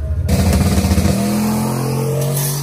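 A turbo LS-powered convertible Mustang launches down a drag strip, its engine roaring loud and close with a pulsing rev that settles into a steady rising drone as it pulls away.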